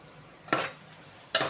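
A lid clatters onto a cooking pot of drumstick and tomato curry, two short metallic knocks about a second apart, fairly close over a quiet kitchen background.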